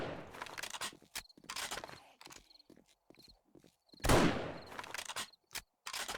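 Several gunshots ring out during a horde night in 7 Days to Die, scattered sharp reports amid footsteps and background game noise, one louder burst standing out midway.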